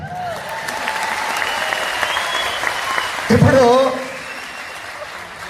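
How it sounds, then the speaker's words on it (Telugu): An audience applauds at a motivational speech. The clapping is steady and crowd-wide, and a speaker's voice talks over it throughout, with a brief louder burst near the end. "కరెక్ట్ అయితే క్లాప్స్ కొట్టాలి."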